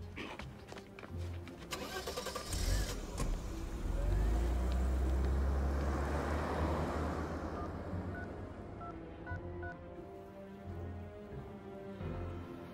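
A car engine cranks and catches, then revs and rolls away, the rumble swelling to a steady drive before fading into road noise, with faint clicks and background sounds around it.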